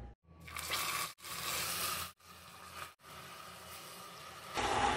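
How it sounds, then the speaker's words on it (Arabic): Hot water pours slowly into melted sugar for caramel in a deep pot, a steady close hiss and splash broken by a few brief pauses, ending with a louder sizzling burst. "هلأ بضيف المي السخنة كتير، نصف كوب بهدوء"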